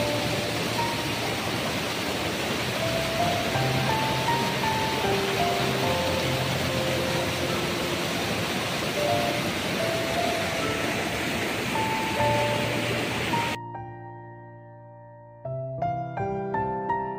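Water rushing steadily from Palasdari dam and its waterfall, a dense broadband roar filling the scene with faint tonal sounds over it, then cut off abruptly near the end, when a brief bright musical tone pattern takes over.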